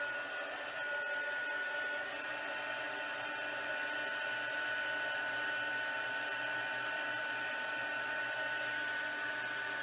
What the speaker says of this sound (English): And then the heat tool.